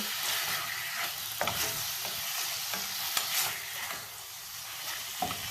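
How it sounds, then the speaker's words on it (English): Beef sizzles steadily in a hot pan over medium heat while a utensil scrapes and stirs it, with a few sharp clicks. "So continue stir frying"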